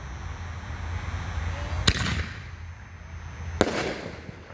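A Raptor neon color canister shell from Legend Fireworks bursts twice, each a sharp loud crack followed by a fading crackling tail over a low outdoor rumble.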